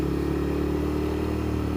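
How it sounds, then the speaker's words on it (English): A motorcycle engine runs steadily close by in traffic, its low harmonic drone sustained and loud throughout, with a slightly raised, revving edge and no voices. "I might be revving my engine a little bit more than normal at him."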